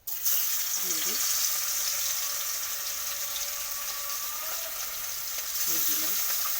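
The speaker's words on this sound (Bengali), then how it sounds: "লাল লাল করে মাছগুলোকে একটু ভেজে নিচ্ছি।" Two more pieces of chara fish frying in a kadai of hot oil, a loud, continuous close sizzle with fine crackle throughout, while a faint voice murmurs briefly in the background.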